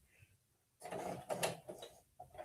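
A sewing machine stitches across the point of a slippery fabric corner in a short, faint mechanical burst after a quiet start.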